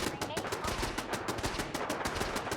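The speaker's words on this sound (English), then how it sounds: "Oh god, that's a minigun." Minigun fire in the video game Fallout 4, a rapid, relentless stream of close, loud gunshots rattling continuously without a pause.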